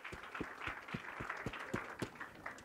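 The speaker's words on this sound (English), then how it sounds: "Let's give a big round of applause" Applause from an audience at a sports club's season launch event, a steady wash of many hands clapping with distinct sharp claps standing out, moderately loud and continuous throughout.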